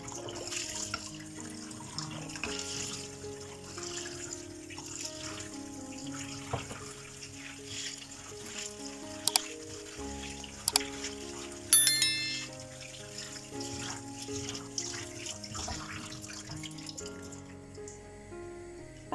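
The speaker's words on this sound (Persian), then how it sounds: "ابتدا عدسامون رو میشوریم و از صافی عبور میدیم تا تمام خاکمون خارج بشه" Lentils rinsed in a strainer under a running kitchen tap, a steady wash of flowing water that sits beneath louder melodic background music, with a few brief sharp clinks partway through.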